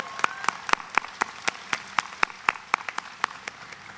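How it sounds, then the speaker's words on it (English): At a college commencement, the audience applauds first-generation graduates as a crisp, rhythmic run of about fifteen evenly spaced claps rises above a softer crowd patter. "let's please clap for our first generation grads"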